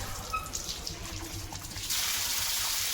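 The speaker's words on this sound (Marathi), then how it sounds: "आंघोळ करायची लिओ तिकडे जा घेऊ पाईप" Water gushes steadily from a pipe, starting softer and then surging into a loud, continuous splashing rush.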